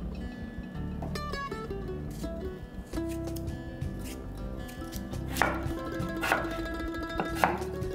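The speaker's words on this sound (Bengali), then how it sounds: "আলুগুলো ডুমো ডুমো করে মোটামুটি কোপ্তার মাপে কেটে নেবে।" Rapid knife chopping of potatoes into cubes on a board, brisk repeated cuts with a few sharper knocks near the end; no talking.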